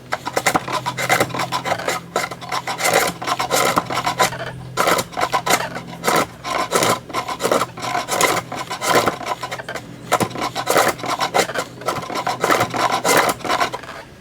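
A hand tool cutting a spinning wooden bowl on a lathe makes a loud, continuous rasping scrape that pulses as the tool works, over a low motor hum, with no voices.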